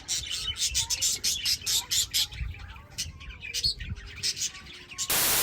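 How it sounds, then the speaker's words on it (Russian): Budgerigars chirp and tweet in a large outdoor cage, a busy flock of rapid, overlapping high calls that carry on steadily throughout, heard close up and fairly loud, with a brief burst of broadband noise at the very end. "С попугайчиками."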